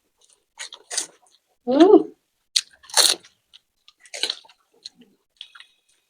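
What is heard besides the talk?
eating crunchy fuchka (panipuri) in an eating challenge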